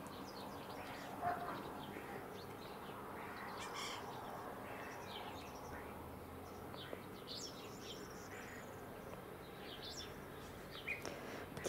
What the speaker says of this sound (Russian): Птицы весны.